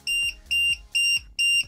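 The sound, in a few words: Flysky fs-i6 transmitter low battery alarm beeping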